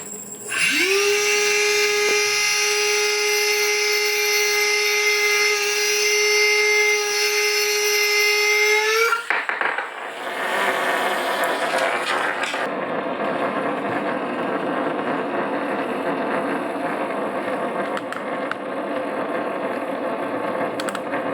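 A small electric motor in a homemade 20k RPM spinning top launcher spins up to a steady high-pitched whine for about nine seconds, then drops to a rougher, noisier rattling whir that keeps running loudly to the end.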